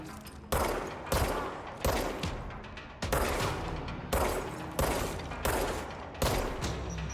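Gunfire in the video game Control comes in repeated automatic bursts, each a loud crack-led volley trailing off, spaced about a second apart with brief gaps between.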